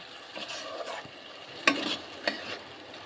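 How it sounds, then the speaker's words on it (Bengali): Spice paste for an okra and potato curry is stirred in a pan, giving a quiet sizzle with a few sharp scraping clinks of the spoon against the pan. "কিছুক্ষণ মশলাটা আবার কষতে থাকবো"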